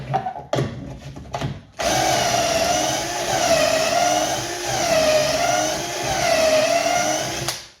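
A power drill drilling a pocket hole with a Trend pocket hole jig whirs steadily for several seconds, its pitch wavering slightly as it bores, after a few short clicks and bumps at the start.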